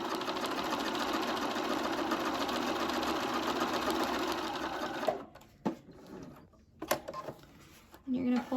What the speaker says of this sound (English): we're just going to make a row of big stitches across the fabric that we want to gather